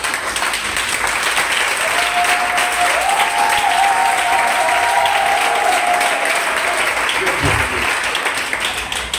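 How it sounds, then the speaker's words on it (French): A church congregation applauds to acclaim the Lord, a loud, sustained wash of clapping from many hands that fills the room, with a faint tone drifting through partway. "vous êtes en train d'acclamer le Seigneur"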